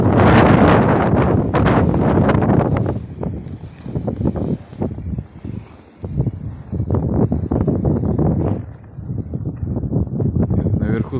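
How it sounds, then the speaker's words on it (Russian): Strong wind gusts roar across the open Khakass steppe, blowing snow about, with loud buffeting on the microphone that rises and falls in surges; a brief voice may sound near the start. "Сильный ветер наверху прям."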